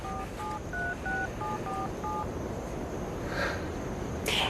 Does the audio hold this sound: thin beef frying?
no